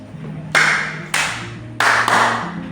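Four sharp, distinct hand claps ring out in an uneven rhythm during a counting game at a vocational school, close and loud, with a faint steady tone underneath.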